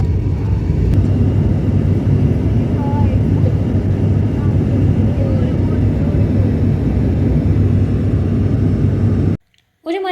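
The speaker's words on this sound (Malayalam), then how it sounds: "വേഗം തന്നെ ഫ്ലൈറ്റ് ലാൻഡ് ചെയ്തു" Loud, steady jet-engine roar with deep rumble fills the cabin throughout as the plane lands, cutting off abruptly near the end.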